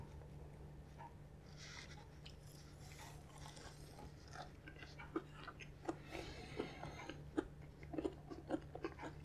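Close, crunchy chewing of a KFC vanilla cream puff with a crisp crust and creamy filling, irregular bites and crackles over a low steady hum, quiet overall.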